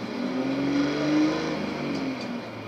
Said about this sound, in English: They are trying to fix the car, but it's not fixing, so I'm really sorry for the noise.